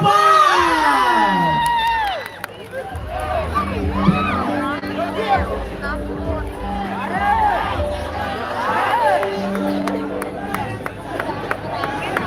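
A live concert crowd at a mall event cheers, whoops and shouts continuously, with children's voices among the dense babble; the roar stays loud and steady, with music-like tones and a voice rising over it at the start.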